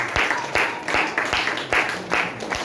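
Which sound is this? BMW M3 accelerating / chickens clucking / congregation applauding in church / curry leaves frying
congregation applauding in church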